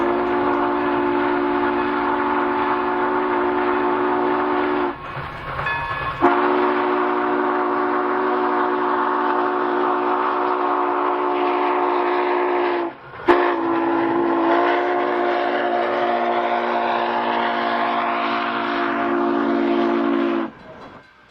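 A steam locomotive, freshly returned to steam after a 15-year rebuild, sounds its whistle in long, loud, sustained blasts at Train Expo in Owosso, Michigan, each broken by brief pauses over continuous running noise.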